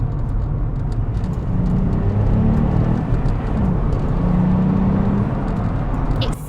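A 2019 VW Up! GTI hatchback revs after a downshift, its engine note climbing in steady tonal swells over a constant low cabin rumble, continuous and fairly loud with no speech.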